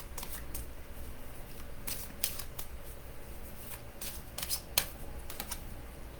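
Shuffling a deck of cards and drawing one, soft papery riffles with a few sharp snaps, close, over a faint steady background hiss.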